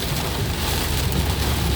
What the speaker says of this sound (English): Looks like I'm getting into some heavier rain and some wind now.